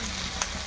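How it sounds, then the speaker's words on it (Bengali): Spice paste frying for a village-style Bengali fish curry, a steady soft sizzle throughout with one brief sharper spit partway through, no voices. "মশলা কষাচ্ছি পুরো।"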